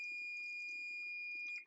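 A kitchen timer beeps in a steady, high, continuous electronic tone while custard is cooked on the stove, clear and unbroken until it cuts off near the end.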